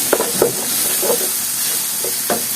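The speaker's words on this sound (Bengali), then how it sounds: "দেব একটু লবণ, এরপরে দিয়ে দিব হলুদ, দেব একটু আদা রসুনের পেস্ট দিয়ে এগুলো সব ভালোভাবে একটু তেলের সাথে" Salt, turmeric and ginger-garlic paste fry in oil in a pan while a spoon works them around, a loud close sizzle with several soft scraping strokes at irregular intervals and no talking.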